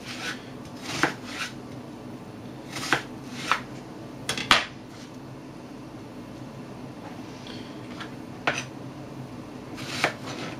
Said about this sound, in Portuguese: cortamos a cebola em pequenos pedaços